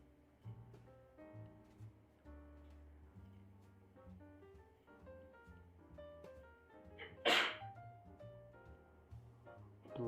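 A single sharp sneeze bursts out near the end of a stretch of steady background music during a live forex trading session, loud and close for under a second.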